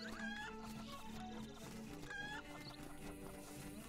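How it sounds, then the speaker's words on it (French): A chicken clucks in The Legend of Zelda: Link's Awakening on Nintendo Switch, with repeated short bird calls over a steady, moderately loud game music bed. "Une poule!"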